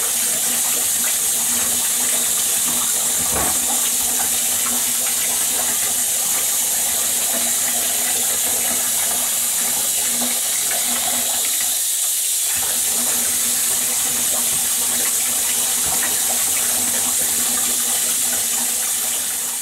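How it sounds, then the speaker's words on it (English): Tap water runs steadily and loudly while dreadlocks are rinsed and squeezed under it, a constant close splashing rush with a brief dip in the flow partway through. "I'm going to start rinsing it out here. Just squeeze it out to help rinse."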